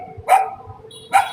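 A stray dog on a street in an Asian city gives two sharp barks about a second apart, fairly close and loud over a low background hum.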